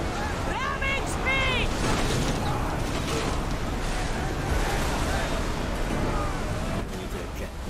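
Large ocean waves crash and surge continuously in the Assassin's Creed Odyssey game, a loud broad wash with wind and creaking ship sounds, while a voice talks over it.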